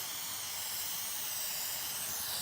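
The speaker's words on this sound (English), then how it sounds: "we're just gonna spray some adhesive on here." Aerosol adhesive sprayed from a can onto van upholstery or insulation, a steady close hiss running unbroken through the whole moment.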